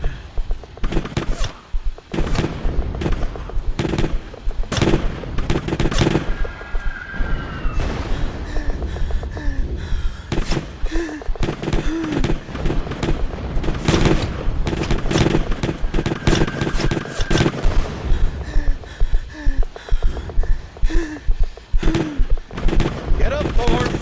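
Gunfire in a video game rings out as many sharp, loud cracks in irregular bursts throughout, mixed with thuds and effects, while a voice shouts and talks over the action.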